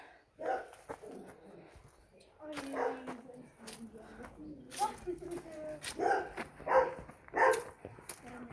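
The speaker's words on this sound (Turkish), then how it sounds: "Köpek, köpek." A dog barks in several short bursts at close range outdoors at a residential complex, mixed with people talking, with bird calls around.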